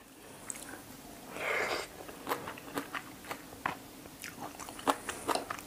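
Close, crisp crunching and biting on chicken feet papaya salad with fermented fish sauce, shrimp paste and rice noodles, a run of irregular crunchy chews with one longer wet bite early, no talk.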